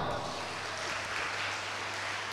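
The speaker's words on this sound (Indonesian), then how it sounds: "Tepuk tangan untuk kita semua." An audience at a university student organization inauguration and talk show applauds, a dense, even roar of clapping that holds steady for the whole moment, with no voices heard over it.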